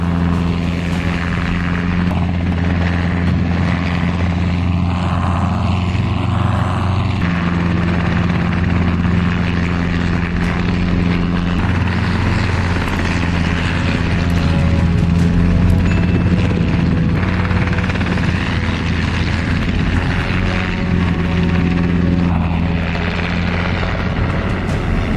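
A helicopter flying while airlifting cattle gives a loud, steady rotor and engine drone that holds with little change throughout, with no talking.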